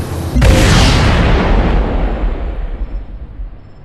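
A torpedo detonates in the space strategy game Sid Meier's Starships: one loud, close boom hits sharply near the start, then rumbles and slowly fades over the next few seconds.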